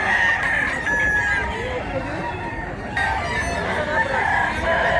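Rooster crowing at a Cebu mountain-chicken market, several long crows rising and falling over a steady crowd and fowl backdrop, fairly close and loud.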